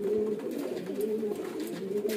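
Several domestic pigeons for sale, including Kalsire, Bajre, Chhapdar and Ude types, coo steadily in low, rolling bursts, close by and overlapping with no voices.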